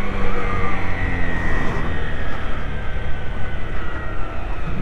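A 2021 Honda CG 160 Titan motorcycle being ridden, its engine a steady, fairly loud drone with a slightly fluctuating rumble and road noise, heard close and continuous.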